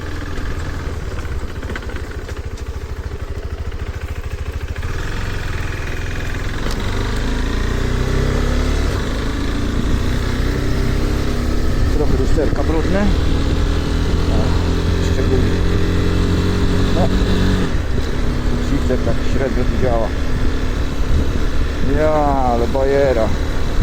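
Motorcycle engine running steadily while riding on a December road, a continuous mid-pitched drone with shifting tone that builds slightly, while someone talks over it.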